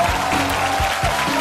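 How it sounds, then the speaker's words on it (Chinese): A studio audience at a Chinese comedy roast show applauds to welcome a guest onto the stage, a dense burst of clapping with some faint voices mixed in. "来，让我们掌声有请"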